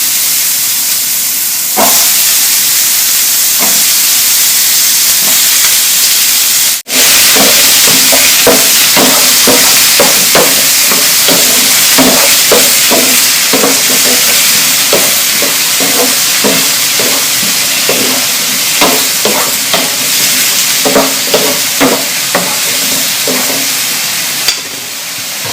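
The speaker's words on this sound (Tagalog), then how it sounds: "Next, brown natin guys ang ating carrots." Carrots brown in a pan with potatoes while spicy chicken breast afritada cooks, giving a steady loud sizzle broken by repeated clacks and scrapes of stirring.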